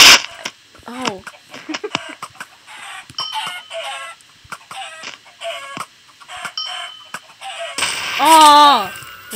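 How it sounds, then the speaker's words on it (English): Chickens in the Minecraft Sky Block game cluck and squawk in a rapid series of sharp calls, loud and close, ending in a harsh drawn-out squawk, with people talking at times. "Chickens attacked me and I died."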